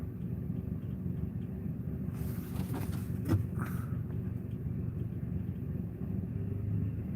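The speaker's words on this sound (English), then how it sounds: "My car's idling fucking rough." A car engine idles roughly with a steady low rumble and uneven throb, heard close up from inside the vehicle, with a brief clunk partway through and no talking.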